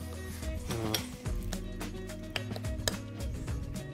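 Crunchy croutons are broken up and a tomato dish seasoned with raspberry coulis is stirred with cutlery, giving close clinks, taps and crisp cracks against a plate in an irregular rhythm.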